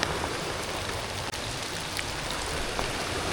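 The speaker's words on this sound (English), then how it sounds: "This is soaking rain." Heavy soaking rain falling steadily on a riverside walk in the evening, a dense, even hiss with no wind or thunder, close and constant.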